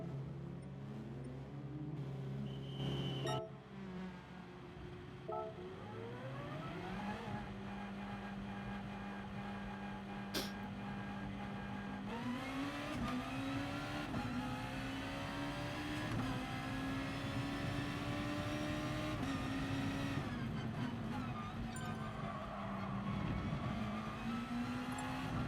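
Honda NSX race car engine in Gran Turismo Sport, loud and continuous with rising and falling revs through gear changes, a steady tone held before climbing again under acceleration, no voices.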